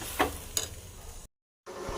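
Soybean chunks and potato for a curry fry and get stirred in a hot pan, giving a steady sizzle with a couple of sharp scraping strokes. A brief silent break follows before the frying hiss returns.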